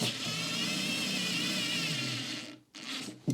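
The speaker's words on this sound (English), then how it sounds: "I'm just going to give it another go to see if I'm going to be able to drive it in fully." A Parkside electric screwdriver with interchangeable heads drives a screw in, giving a steady close whirring motor drone that cuts off near the end, followed by a short burst and a click.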